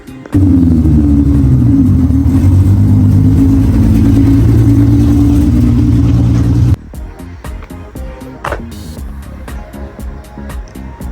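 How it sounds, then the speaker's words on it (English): Toyota 2JZ engine swapped into a Nissan 300ZX with a big turbo, running loud and close with a wavering, uneven idle for several seconds, then cutting out to sharp clicks and knocks. "We're still having the bad idle issue and I'm not sure what it is."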